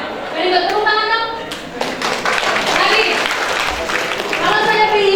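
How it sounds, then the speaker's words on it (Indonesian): A classroom-style group claps on cue for a child, the patter mixed with overlapping voices and a few sharp taps, lively and near, with talk running through it. "Very good, tepuk tangan dong."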